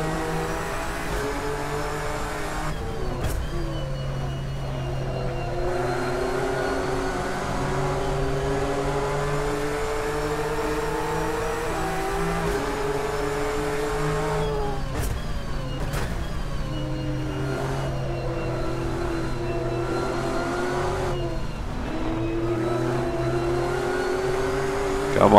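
A GT3 race car engine with a GT3 sound mod, driven in Assetto Corsa at Spa on a winter mod track: a loud, continuous roar that repeatedly climbs through revs, drops sharply at gear changes and rises again.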